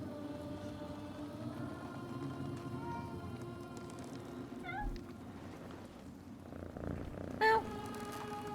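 A cat purring as it is petted in the Mandragora video game, a steady low rumbling purr held throughout with a couple of short chirping meows and faint rain-like background noise.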